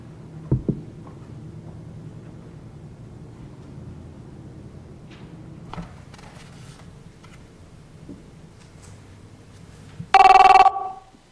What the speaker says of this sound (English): I think we have phone calls still.